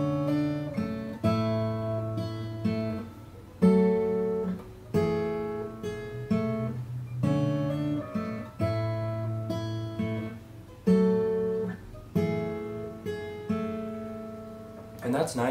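Acoustic guitar playing a riff, a repeating fingerpicked pattern of bright plucked notes in a steady looping rhythm, close and clear with no talking.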